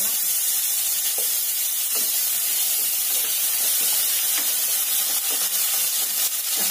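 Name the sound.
tomato frying and sizzling in oil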